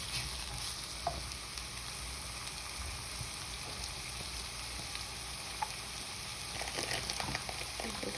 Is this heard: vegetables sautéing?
yes